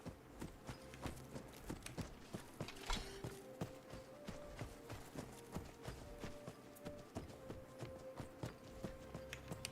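Horse hooves clip-clop in a steady walking rhythm in a fantasy video game, quiet and even, with faint ambient background under the footfalls.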